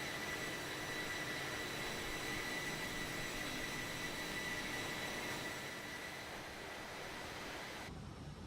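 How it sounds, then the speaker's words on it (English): Inibuilds A300 jet engines in MSFS2020 give a steady, even, moderately quiet whine and roar that holds constant, with no talking. "Sounds are nice. Engine sounds nice."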